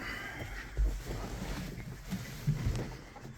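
Steady wind buffeting the microphone on a cold day, a continuous low rumble and hiss with a few louder gusts, no voices.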